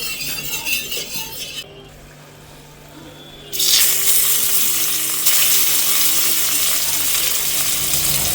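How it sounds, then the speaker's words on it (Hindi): Paneer frying on a tawa griddle, a dense hissing sizzle that fades out briefly after a moment of quieter background, then surges back loud and steady for the remaining seconds, close by with no speech. "यहाँ पर पनीर जो है उसको फ्राई हो रहा है"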